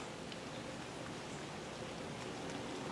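Steady rain falls as a continuous, even hiss of drops on surfaces, with no voices or other distinct sounds over about three seconds.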